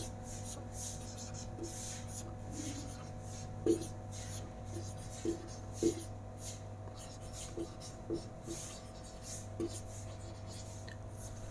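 A teacher writing a definition on a board, heard as faint scratchy strokes with small taps under a constant low hum, while a voice speaks quietly throughout.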